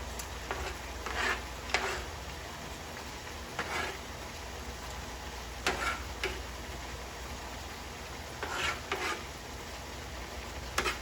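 Onions sizzle as they go into a pot with turkey necks for smothered turkey necks, a steady frying hiss with scattered stirring scrapes and light clinks, no talking.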